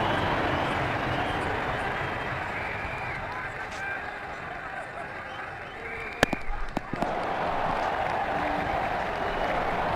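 A stadium crowd in the cricket video game Ashes Cricket 2009 roars in a steady, even wash of cheering, broken briefly by a few sharp knocks partway through.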